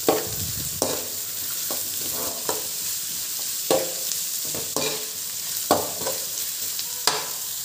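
Cabbage and other vegetables being stirred in a hot pan for vegetable fried rice, with a steady close sizzle and regular scraping stirs roughly every second.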